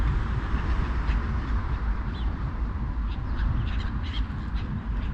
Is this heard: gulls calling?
yes